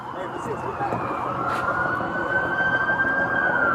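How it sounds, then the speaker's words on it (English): A police siren wails, rises and holds steady over loud vehicle rumble during a chase of a stolen U-Haul van in Florida, fairly close and continuous throughout. "Sirens. Everybody kill your sirens."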